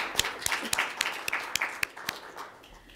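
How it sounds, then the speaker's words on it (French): At a Quebec press conference, a small audience claps: sparse, distinct hand claps over a faint bed of lighter applause, tapering off toward the end. "Je voudrais applaudir Rémi Quirion, qui nous a beaucoup aidés"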